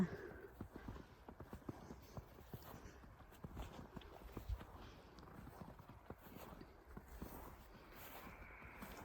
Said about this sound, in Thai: นี่ก็มีม้าม้าออกมา เดินเล่นข้างนอกนะมีม้าสองตัว